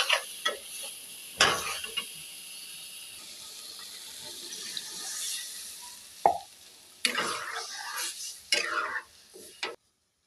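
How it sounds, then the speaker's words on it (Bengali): Pointed gourd goes into cooked spice paste for a tengra fish curry. Scattered plops, wet clacks and scraping stirs sound in short bursts over a soft sizzle, close by and fairly quiet. "মশলাটা কষানো হয়ে গেছে, তরকারিটা দিয়ে দিই।"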